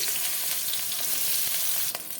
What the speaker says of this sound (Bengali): দিয়ে দেবো সাদা তেল ভেজে নেবো কেটে রাখা বেগুন